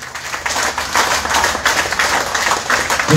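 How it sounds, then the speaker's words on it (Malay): Applause from the audience at a BN political rally in Parit, Johor, a dense, fairly loud wash of many hands clapping that holds steady through the short stretch, with no talk. "Kita berikan tepukan bergemuruh untuk mereka"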